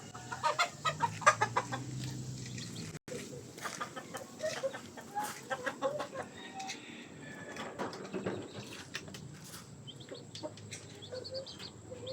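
Backyard pet chickens cluck repeatedly at close range, with irregular bursts of clucking and faint crowing among the flock outdoors.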